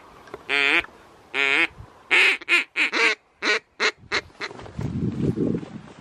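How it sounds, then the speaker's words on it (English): Ducks on a pond during an opening weekend of duck shooting in Southland sound off in a series of loud, close quacks, spaced at first and then rapid, ending in low rumbling noise. "Two ducks just landed in the backwash over here, just on the other side of our pond."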